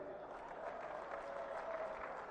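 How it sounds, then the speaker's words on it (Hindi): Crowd applause at a political rally in Bareilly, steady dense clapping heard faintly and at a distance, unbroken for a couple of seconds. "जोर से ताली बजाओ भाई भूमिका के लिए"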